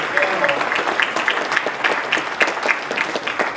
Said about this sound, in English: Let's give a fantastic round of applause for a terrific job.